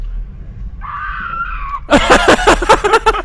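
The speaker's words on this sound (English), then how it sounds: "she's just screaming" A woman lets out a sustained, wavering scream, then breaks into loud, frantic shrieking and sobbing cries close by.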